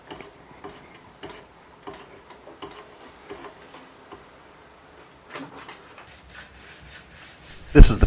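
A wooden pub sign being hand-sanded, producing soft, intermittent scratchy rubbing strokes at close range, quiet and irregular, ending in a louder brief scrape.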